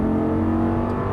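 Audi R8 accelerating at full throttle on a Las Vegas racetrack, a loud, close, sustained engine roar with a rising tone, heard briefly with no speech.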